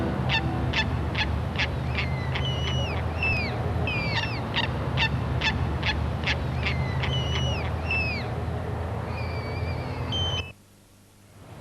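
Birds call across a fenced riverside wildlife haven beside the Maribyrnong River, a rapid series of sharp honking and squawking calls repeating steadily over a constant background hiss before stopping abruptly.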